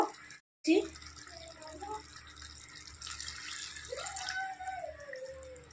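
Warm water poured into a pan of potol and shrimp curry, a soft splashing trickle after a brief gap, continuing unevenly at low level while a voice speaks over it.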